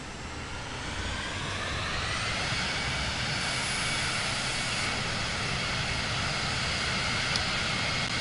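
Steady airplane engine drone in Microsoft Flight Simulator 2024 during a landing approach with flaps and gear down, a constant broadband roar without pauses or speech.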